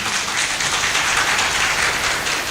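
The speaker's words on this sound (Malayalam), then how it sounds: "നിങ്ങളൊന്ന് കൈയടിക്കണം" A crowd applauding at a protest speech demanding the forest minister's resignation, steady dense clapping from many hands that holds at an even level throughout, with no voices over it.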